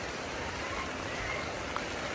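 Heavy rain falls steadily during a storm over a village road, a dense, continuous hiss of downpour with no pauses and no voices.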